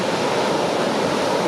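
Ocean surf and strong midday wind at Praia do Tombo, a continuous loud broadband roar of breaking waves mixed with gusty wind noise on the microphone.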